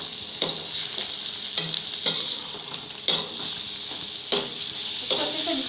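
Chopped tomato frying in a pan with oil, a steady sizzle broken by regular scraping stirs about once a second, close and fairly loud with no talking.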